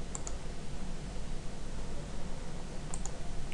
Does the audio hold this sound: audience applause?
no